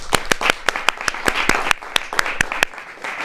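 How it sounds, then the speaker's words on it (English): An audience applauds candidates at the close of a university student government presidential debate, with sharp, distinct claps standing out over a steady wash of clapping and faint background chatter for about three seconds. "At this time, applause for the candidates is welcome."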